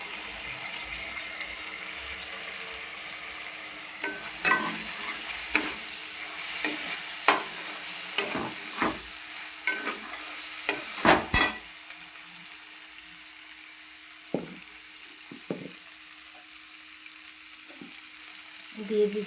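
Ginger, garlic and green chili paste fries in oil for a prawn pulao, giving a soft steady sizzle broken by a burst of quick spoon scrapes and clinks midway, close by with no speech.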